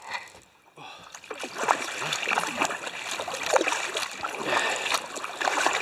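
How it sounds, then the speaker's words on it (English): A fully loaded kayak is paddled upstream against the current on a shallow stream, with intermittent splashes and dips of the paddle over a continuous watery trickle, close and moderately quiet. "I'm currently paddling upstream against the current"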